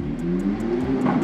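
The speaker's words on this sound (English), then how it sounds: "Rev it a bit." A car engine revs hard close by, a steady loud drone with rising pitch over a little more than a second, no voices.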